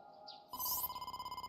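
A phone rings in the video game AI: The Somnium Files: a short chime, then a rapid pulsing electronic ringtone tone repeating about a dozen times, clear and fairly quiet, with no talking.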